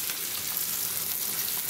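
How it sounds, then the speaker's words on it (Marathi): Fish sizzling steadily as it fries in a pan, a dense continuous crackle with faint stirring, close and fairly quiet, no voices. "बघा फ्रेंड कसे मासे परताय लागले एकदम छान पैकी."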